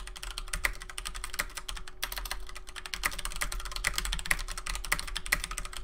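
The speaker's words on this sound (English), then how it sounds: "as I'm typing, I'm actually looking at the next word before I even finish the previous word" Rapid, even clicking of keys on a computer keyboard during a typing drill, played up close and fairly quietly, with a dense and continuous rhythm.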